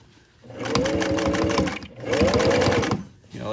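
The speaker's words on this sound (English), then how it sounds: "let the sewing machine do the work" A sewing machine stitching a pant hem runs in two sustained bursts of rapid, even needle chatter, close and fairly loud, separated by a short pause as the fabric is repositioned.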